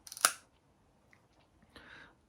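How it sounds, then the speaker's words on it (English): A cheap film camera's metal leaf shutter fires with a sharp, crisp click up front, followed by a softer mechanical rasp a moment later, close and otherwise quiet. "So there is the leaf shutter. Let's see if you can see it firing."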